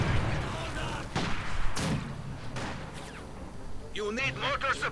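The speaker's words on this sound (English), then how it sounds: "Lots of mortaring going on." Mortar and artillery fire booms and crackles continuously in a real-time strategy game battle, dense and layered, with a voice talking over the din toward the end.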